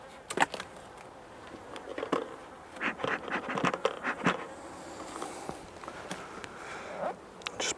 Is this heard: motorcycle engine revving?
no